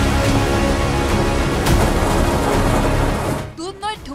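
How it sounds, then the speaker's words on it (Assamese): A fierce hailstorm with strong wind in Dudhnoi, Assam, makes a loud, dense, continuous roar and clatter, then drops away near the end to quieter gusts with faint whistling traces. "দুধনৈত ধুমুহাৰ লগতে আছিল প্ৰচণ্ড শিলাবৃষ্টি"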